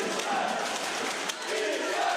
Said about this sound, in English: Crowd still chanting for Vishan.